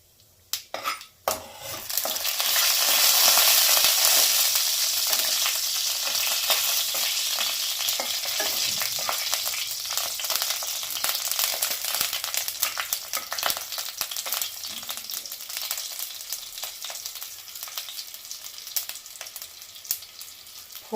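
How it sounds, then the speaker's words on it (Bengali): Whole dry red chillies, green chilli and mustard seed sizzle loudly in hot oil, a dense, steady crackling hiss with scattered pops and occasional scrapes of a spoon stirring the pan. "ফোড়নটি একটু ভেজে নেব।"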